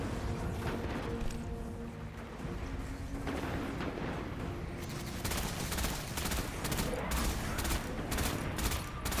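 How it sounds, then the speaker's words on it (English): Rapid bursts of pulse rifle fire in Destiny 2 crackle steadily and loudly, dense volleys with sharp transients layered over booming battle noise and explosions throughout. "this pulse rifle could do more damage"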